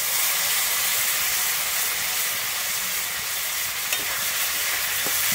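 Ground paste of onion, cumin, mustard and chilli fries in hot oil, a dense, even hissing sizzle that holds steady throughout, with a couple of faint stirring taps.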